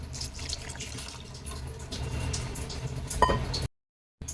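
Tamarind water is poured into rasam, making a splashing, gurgling pour that builds over a few seconds and then cuts off abruptly, with no speech.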